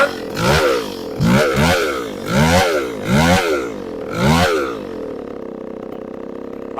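Small chainsaw engine idling and bogging after a new carburetor install, pulsing in about five loud surging cycles before dropping to a quieter low hum.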